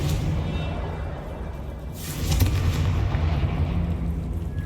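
In Hogwarts Legacy, a Confringo fire blast spell bursts with a booming, explosive whoosh midway, over a steady rumbling game soundscape, fairly loud with no speech.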